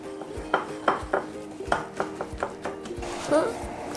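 A utensil scrapes and clinks against a bowl while tofu dough is mixed with rice flour, egg and sugar, giving irregular close taps and knocks, with a voice speaking at times.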